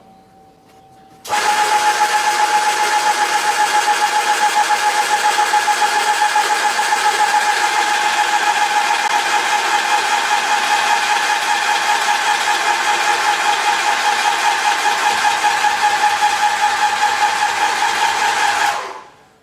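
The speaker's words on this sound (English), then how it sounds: "You can just hear the motor change a little bit" A Graco ProStep paint sprayer motor runs steadily while priming, a loud continuous mechanical hum with a rapid pulsing rhythm that starts abruptly and holds for about seventeen seconds before cutting off, with no talking.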